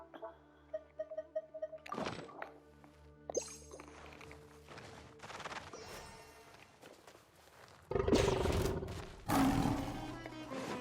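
A lion-bird creature in Genshin Impact lets out deep roars amid game footsteps and thumps, the growls swelling loudest in two heavy bursts near the end, with soft musical tones underneath early on.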